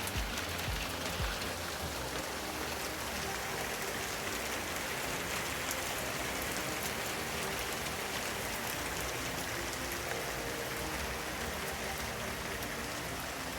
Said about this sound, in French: Voilà, de la pluie, il y en a énormément.